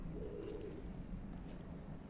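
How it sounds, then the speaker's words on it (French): A pigeon coos softly somewhere in a spring garden, a faint, low repeated call over steady background hum. "Vous entendez un pigeon qui roucoule dans le coin."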